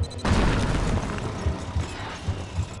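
A loud grenade explosion booms in the Psychonauts video game, hitting hard and then rumbling on in a sustained roar with smaller blasts and crackles through the rest of the moment.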